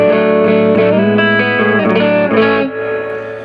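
An EVH Wolfgang electric guitar plays through a 50-watt Marshall JCM800 split channel reverb 1x12 combo on the clean channel, loud ringing chords with reverb, changing a few times and then fading out.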